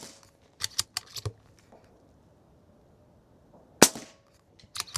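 An air rifle shoots a pellet at a target: one sharp, loud crack stands out, with a few quieter mechanical clicks from handling and loading before and after it, in otherwise quiet surroundings.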